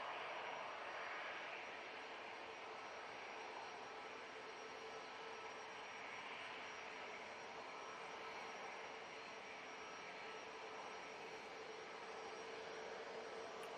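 ATR 72 turboprop from Aberdeen arriving at Manchester Airport, a steady broadband engine roar holding at constant loudness throughout with no talk.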